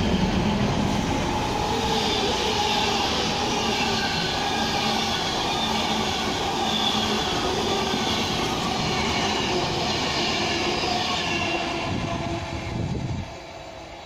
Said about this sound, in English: Virgin Pendolino.